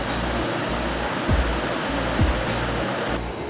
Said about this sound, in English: It can be one of the best places on the Oregon coast to watch big waves